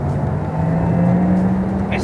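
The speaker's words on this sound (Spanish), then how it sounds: "Es espectacular cómo acelera este coche." A Porsche Taycan Cross Turismo electric car accelerates with a steady, humming motor whine and road rumble from inside the cabin, with a voice talking over it.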